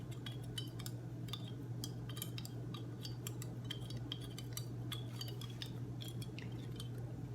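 Fabric dye being stirred in a container: repeated light clinks and scrapes of a utensil against the sides and bottom, steady and close, over a constant low background hum.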